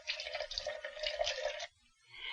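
Warm tap water running over a stuck paint jar lid in a school classroom, a steady splashing stream for about a second and a half that stops abruptly, leaving near quiet.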